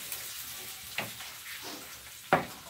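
Shallots fry in a wok for stir-fried water spinach, a soft steady sizzle with a few sharp scraping stirs of a utensil against the pan.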